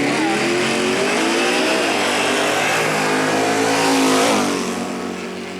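A loud drag racing car on a 10-inch slick at Centerville Dragway in 2000 roars at high revs, its engine pitch climbing steadily in a sustained wail before easing off near the end.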